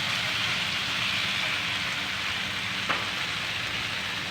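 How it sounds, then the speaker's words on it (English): Pineapple noodle stir fry being stirred in a pan, a steady sizzling hiss throughout with one brief scrape near the end, close and fairly loud with no talking. "And now we stir everything together"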